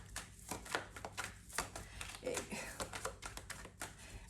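Tarot cards being shuffled by hand in a close, quiet setting, giving a run of quick, crisp card taps and riffles at an irregular rhythm, with no speech over them.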